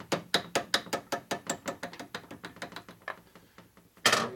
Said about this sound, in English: This time I'm going to tap it on.